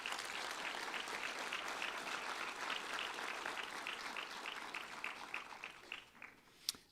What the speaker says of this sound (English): Please give a warm round of applause to Dr.